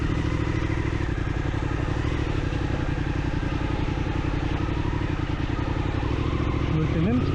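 Suzuki V-Strom motorcycle engine idling and pulling steadily at very low speed during a balance training session, a continuous close chugging rumble throughout.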